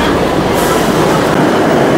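A Kolkata Yellow Line metro train rolls into Jai Hind station, a loud, close, continuous roar of wheels and motors filling the platform with no voices.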